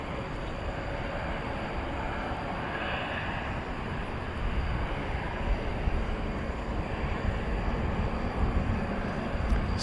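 An airliner departs at night from runway 18 right at DFW Airport, heard as a continuous distant roar that grows somewhat louder midway through.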